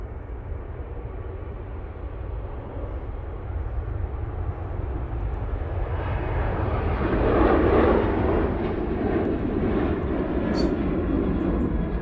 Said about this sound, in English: Next out is the Jet 2 737